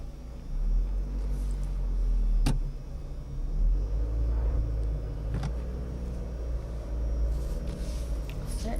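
A car engine idles and rumbles near a learner car waiting at a junction during a driving lesson, a steady low drone with a few soft knocks inside the cabin.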